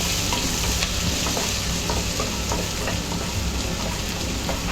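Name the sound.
chopped ginger and garlic sautéing in a pan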